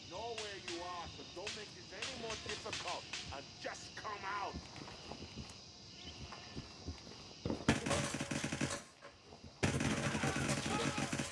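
Rifle fired in long automatic bursts to empty the magazine during a Gray Zone Warfare firefight, dense and loud, arriving in two sustained stretches near the end, with someone talking over the earlier part.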